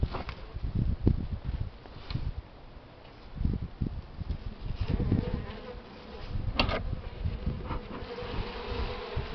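Honeybees buzzing loudly in an opened hive after a colony died off, a dense continuous drone close by with rustling and handling noises of frames.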